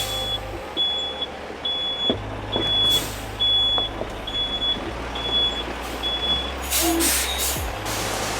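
A triple axle gravel truck reverses with its beeper sounding a steady, evenly spaced series of tones over the low idle of the diesel. A sharp hiss of the air brake comes near the end.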